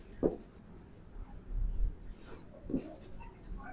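A pen writes by hand on a paper journal page in short, close, scratchy strokes and scribbles, separated by brief pauses.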